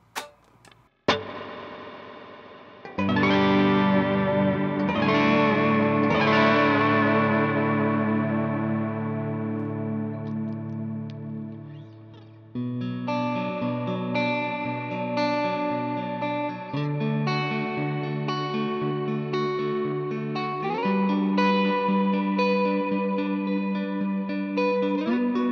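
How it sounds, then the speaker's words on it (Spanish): Ambient reverb patch on a Valeton GP-200 multi-effects unit, played on electric guitar in a worship style: sustained chords bloom into a long, washy shimmering tail, loud and unaccompanied by talk. "aquí tenemos lo que es la reverb, que es de ambiente, que es esta reverb de ambiente"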